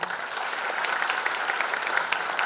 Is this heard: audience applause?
yes